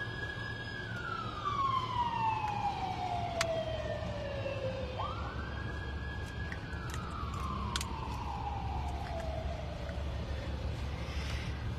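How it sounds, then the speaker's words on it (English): An emergency vehicle siren drifts in from a distance at night, faint but clear, its wail falling slowly, jumping back up, then falling again over a steady low background hum. "There goes the siren."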